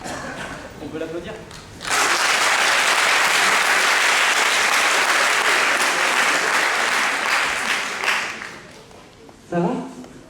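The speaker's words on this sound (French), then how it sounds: "On peut l'applaudir?" An audience applauds a hypnosis volunteer in a steady, dense wash of clapping for about six seconds that fades out, with a person talking briefly before and after.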